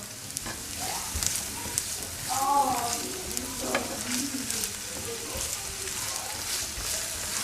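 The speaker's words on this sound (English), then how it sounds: "we let it fry a little bit until it gets kind of golden" Onion fries in olive oil for a bolognese sauce, a close, even crackling sizzle throughout, with a brief, faint tonal murmur in the background partway through.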